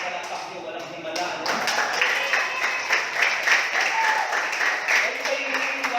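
Congregation clapping and applauding at a church praise and healing service, a dense, steady patter of many hands that swells after a quieter start and continues throughout.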